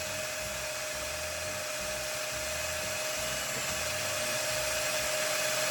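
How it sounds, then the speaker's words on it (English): A drill spins an engine valve pressed against its cylinder head valve seat, giving a steady, close, high-pitched whine with a grinding rasp underneath that holds for the whole stretch without a break. "you run your drill while pressing on the valve face itself into the cylinder head while the valve is spinning"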